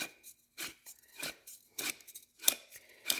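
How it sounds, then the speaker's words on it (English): Cutting open a Fram Ultra Synthetic oil filter in a garage, with crisp crunching snips from a cutting tool in irregular bursts, close and quiet, no talking. "This isn't going to take long to cut through, I don't think."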